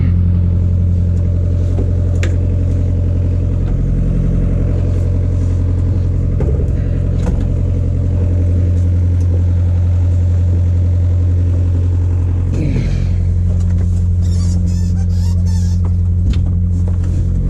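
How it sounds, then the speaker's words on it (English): A 1975 Peterbilt truck engine being turned over by towing with the clutch dumped, a loud steady low mechanical rumble and drone that shifts and clatters partway through, close and continuous with no talking. "I'm gonna dump the clutch on it and see if we can't get her to roll over a little bit."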